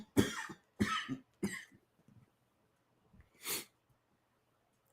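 Three sharp coughs in quick succession, then a pause and one more cough, close and fairly loud in an otherwise quiet room.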